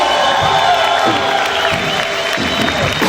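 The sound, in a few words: congregation shouting and clapping loudly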